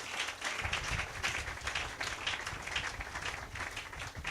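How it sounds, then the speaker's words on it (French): A congregation claps and cheers in a church service, a dense, continuous patter of many hands at moderate distance with faint voices mixed in. "Donnez une main d'acclamation au Seigneur"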